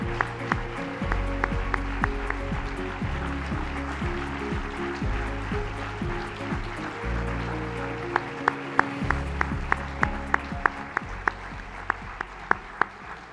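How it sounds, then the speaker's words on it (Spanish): Applause rises from the audience at a regional sports awards ceremony, a steady wash of clapping with sharper individual claps popping out near the end, all layered over sustained background music. "Un aplauso fuerte,"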